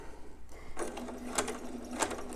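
A sewing machine stitches a newborn romper, running in short quick bursts with a rapid whirring needle rhythm, close and fairly quiet, separated by brief pauses.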